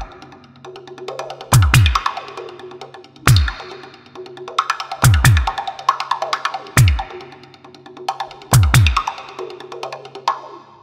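A programmed electronic drum pattern from a Yamaha EAD10: booming kick hits with sharp snare cracks, repeating in a steady groove over a faint sustained synth pad.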